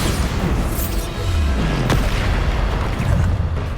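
In Hogwarts Legacy, a Bombarda spell explodes as a deep, loud boom with rumbling low-end tail, set within continuous dense game combat noise.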